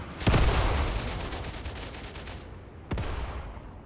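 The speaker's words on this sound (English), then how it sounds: "No, those are our flares." Flares being fired in the war game Mius Front, a loud booming launch followed by a long crackling rumble that fades, then a second sharp report near the end.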